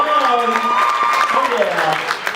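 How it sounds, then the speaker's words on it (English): Wedding guests applaud the bride and groom, a dense crowd clapping under a voice speaking over the noise. "Would you please give them a big round of applause?"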